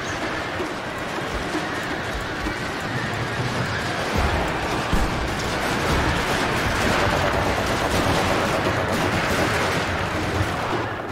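Dense, continuous musket volley fire from troops in the Total War: Shogun 2 video game, a Joseon army battle, with overlapping gunshots crackling steadily and loudly throughout without pause.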